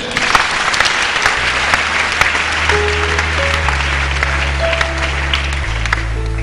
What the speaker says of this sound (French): Mettez-lui l'onction, acclamons le Seigneur.